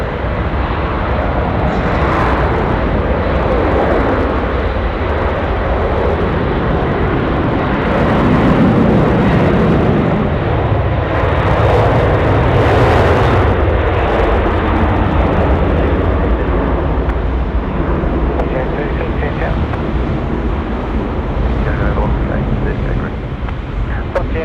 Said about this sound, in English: Qantas A380 off to Singapore. Here we go. The A330,